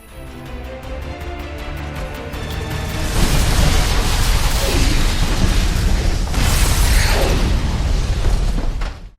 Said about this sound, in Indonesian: dia langsung mengaktifkan bom jebakan di kamarnya